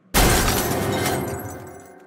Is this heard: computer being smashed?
yes